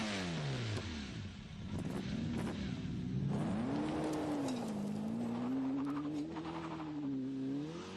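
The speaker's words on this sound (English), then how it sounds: "Engine start." A 1995 TVR Cerbera fires up and revs hard, the engine note swooping up and down through several throttle blips before settling into a rising, wavering growl, loud and close with no talk over it.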